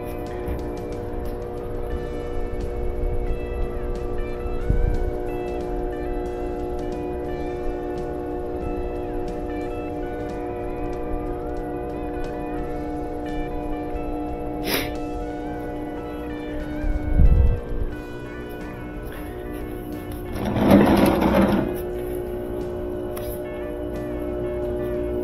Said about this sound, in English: So it starts on low spin and will continue right on up to high spin.